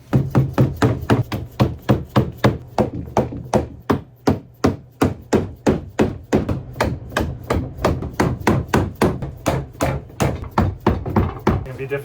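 A $1,000 battery is chopped open with a long run of heavy, evenly spaced whacks and thunks, about three per second, close and loud, with occasional voices between blows.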